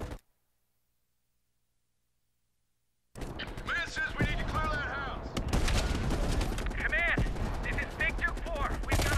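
Sniper rifle fire in Black Ops Cold War: after a few seconds of silence, dense combat erupts with sharp repeated gunshots and rapid fire under speech and chattering sounds.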